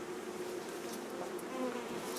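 Honeybees in a hive being moved from National frames onto Smith frames on a damp morning after rain, giving a steady, close, continuous buzzing drone with no talk.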